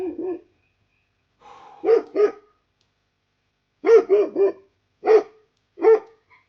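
Dogs bark in the wilderness in short bursts of two or three, spaced apart with quiet gaps, sharp and fairly close, with nothing else heard.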